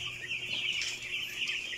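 Broiler chickens on a farm, eight days old, cluck and cheep as a dense, continuous flock chorus close by with no one speaking.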